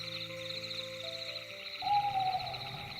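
An owl gives a few sustained, tonal hoots against a quiet background, fairly clear and close.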